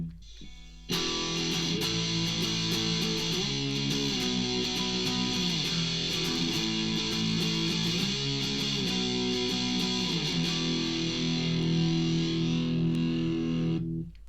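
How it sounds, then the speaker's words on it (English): An electric guitar with heavy distortion plays a chugging power chord riff, thick sustained chords changing in a steady rhythm for about thirteen seconds, loud and close with no talking. "Add a bit of distortion."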